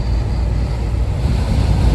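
Strong wind roars steadily into the microphone on the road during a truck drive, a dense, loud rumble with no pauses and no voices.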